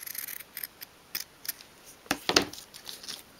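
Small scissors trim fabric for a 1/12th scale miniature shoe storage bench, a few crisp snipping cuts at close range followed by a louder cluster of snips, with no talking.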